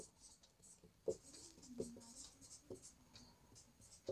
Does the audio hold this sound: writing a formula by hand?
yes